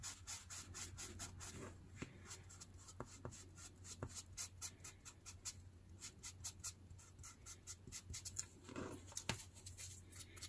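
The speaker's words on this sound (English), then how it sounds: "I'm gonna add distress ink even inside on my book page, not just on the edges of this die cut." Distress ink is rubbed onto a die-cut book page, making soft, quick scratchy strokes in irregular bursts, close and quiet, with no voices.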